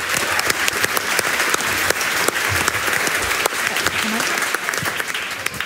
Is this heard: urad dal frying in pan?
no